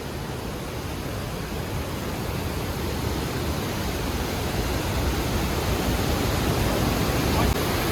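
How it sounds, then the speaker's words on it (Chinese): A waterfall roars inside a long mountain cave, giving a dense, steady broadband rush of falling water that stays loud and unbroken throughout. "这里有标牌，叫做卧龙吞江瀑布。"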